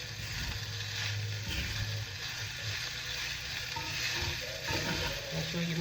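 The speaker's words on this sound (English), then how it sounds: "Now we're going to mix it all together." A potato and green onion frittata mixture with tofu is stirred in a hot pan, giving a steady close sizzle with scraping stir strokes throughout, no talking.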